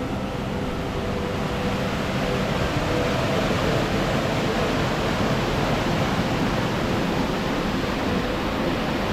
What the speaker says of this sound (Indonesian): Suara deras sungai sebagai tanda curug sudah dekat.